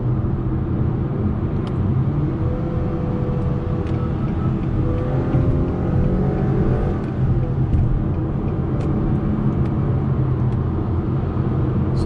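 A 2021 Acura TLX with a 10-speed automatic transmission accelerating on the road, a steady, loud low engine and road rumble that holds throughout with a faint rising tone partway through.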